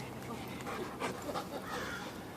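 A German Shepherd–type dog pants at an outdoor dog park, with quick, breathy huffs repeating steadily over a noisy outdoor background. The panting sounds close and fairly soft.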